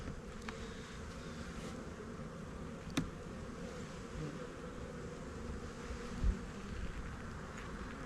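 Honey bees buzz steadily around an opened hive during a hive inspection, a dense continuous hum with a couple of brief knocks.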